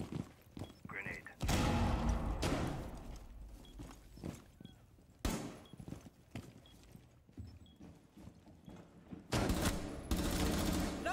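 Video game gunfire and a grenade: loud, broad bursts of shooting and explosion break in three times among quieter footstep-like thumps, with talking voices in between.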